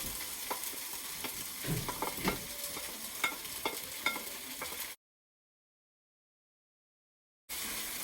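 Carrots go into a hot frying pan for a crab meat omelette, giving a soft, steady sizzle with scattered stirring clicks and scrapes, then a few seconds of complete silence before the sizzle resumes.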